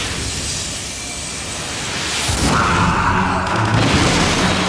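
Big combat explosions in the Wolfenstein video game: a loud, rumbling boom surges up about halfway through, over a continuous roar of noise.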